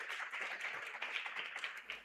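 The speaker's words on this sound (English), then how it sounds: "Clap for yourselves for being early." Conference attendees at a scientific meeting clap in a dense, quiet patter of many hands, fairly distant and fading out near the end.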